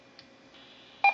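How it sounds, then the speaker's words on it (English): A short electronic beep tone from a Baofeng UV-5R handheld radio transmitting on a repeater, sounding abruptly at the end after near silence. "If you want to use our cheap radio, you got to deal with a beep."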